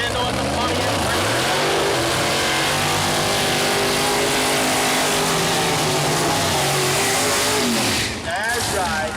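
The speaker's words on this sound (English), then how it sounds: "Purging the nitrous oxide system as he backs it up here in the tower lane" A nitrous-oxide Pro Mod drag car at Mooresville Dragway backs up while purging its nitrous system, a loud, close, continuous engine roar with a rushing hiss that holds steady and dips briefly near the end.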